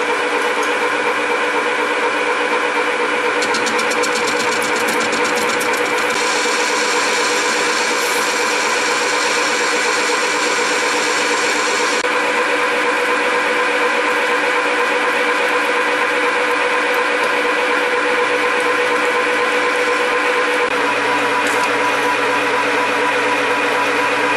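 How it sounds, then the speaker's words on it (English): A metal lathe facing off round stock and drilling a center hole, a steady mechanical hum with tonal whine and a brief higher cutting chatter partway through, continuous and close with no talking. "we get this faced off and get a center hole in it"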